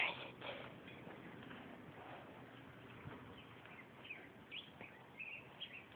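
Faint bird chirps and calls scattered through quiet outdoor background noise in a bird-hunting game, with short tweets rising now and then and no speech.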